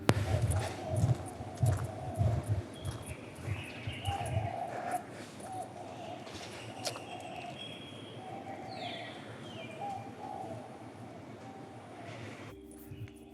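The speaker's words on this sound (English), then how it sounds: "You hear the birds?" Birds call in a park with repeated hooting, owl-like notes and a few higher chirps. The calls are faint against a low background rumble and a few thumps early on.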